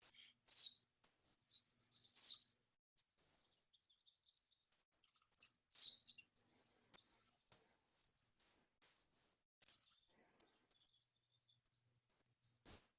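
Flycatcher song outdoors, short high sharp chirps and brief twittering phrases spaced several seconds apart, faint and thin against quiet surroundings.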